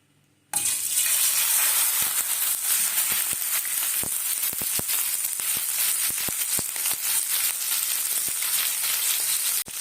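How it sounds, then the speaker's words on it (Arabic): Liver pieces hit very hot oil with a sudden loud sizzle that continues steadily and densely, punctuated by sharp clicks and taps of stirring in the pan. "هنزل بقى بالكبده كده. الزيت معانا سخن قوي"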